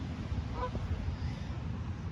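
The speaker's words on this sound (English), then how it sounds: "So there's some geese." Faint honking of geese in the distance, a brief call or two over low outdoor background noise.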